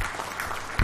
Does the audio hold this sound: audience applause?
yes